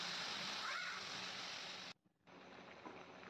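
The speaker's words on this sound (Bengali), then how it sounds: "আমি এখানে জল দিয়ে দেব।" Water is poured into a pan of frying cumin and coriander spice paste for a fish curry, giving a close, steady hiss and splash that cuts out briefly and then resumes.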